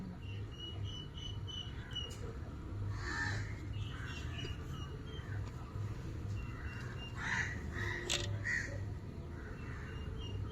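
Crows caw repeatedly at a distance, several short harsh calls scattered over a steady drone of crickets and insects in an outdoor setting.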